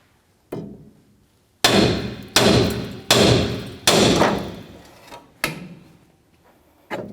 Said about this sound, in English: I'm going to hit the knuckle where the ball joint goes in.